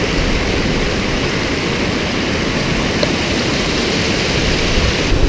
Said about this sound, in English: So there's this massive waterfall.